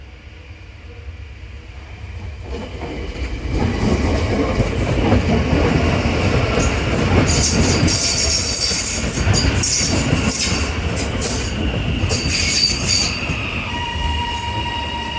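A train rumbles past up close, wheels grinding and squealing over the rails as it crosses through points from the down track to the up track, with a steady loud roar and no voices.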